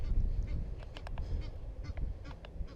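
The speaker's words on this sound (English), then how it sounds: "Bird just flew into my line on my cast." A goose honking after flying into a fishing line during a cast, a few harsh nasal calls standing out over steady low outdoor rumble and wind, fairly close.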